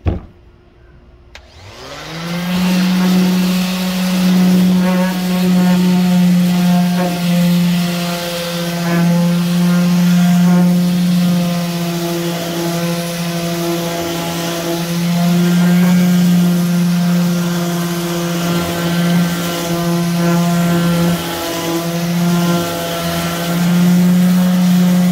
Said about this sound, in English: we'll come back in with that sander and hit some more